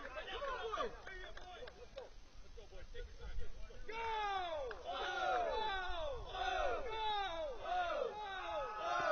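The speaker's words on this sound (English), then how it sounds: "Fighting Illini home crowd, letting out some emphatic chants there." A Fighting Illini home crowd at a Big Ten tennis match lets out loud, rhythmic collective chants. The chanting swells and repeats in emphatic bursts over a broad, roomy background murmur.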